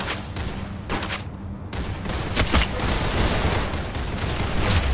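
Gunfire from Roblox Arsenal crackles in rapid, overlapping bursts, loud and close, with busy game noise filling the gaps.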